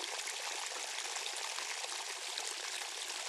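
Free-running water flows at ponds in the remote Namibian bush, a steady, even rushing and trickling that fills the scene with no voices.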